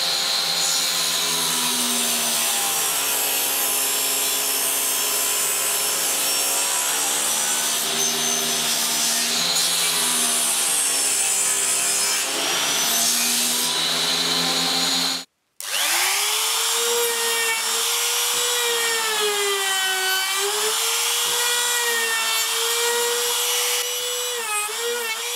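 Loud, continuous sawing of wood for an organ pipe on a saw sled, with a steady whining power-saw tone that shifts pitch as the cut goes on and briefly cuts out midway before resuming.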